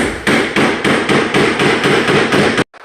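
Nails hammered into a wooden header made of two 2x10s around a half-inch plywood core. Eight or nine loud, sharp, evenly spaced blows land close by, then stop abruptly.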